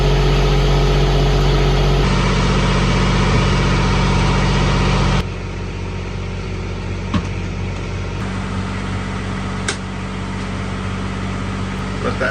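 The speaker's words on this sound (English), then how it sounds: "Let that generator cool down for a minute." A portable generator on a sailboat runs while charging lithium batteries, producing a steady, loud engine drone that drops slightly in level partway through, with a couple of faint clicks.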